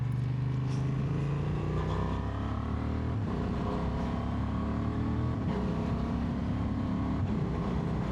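Steady engine drone of a Honda XL750 Transalp motorcycle riding along a country lane in second gear, continuous and fairly even throughout, with wind rush mixed in and no talking.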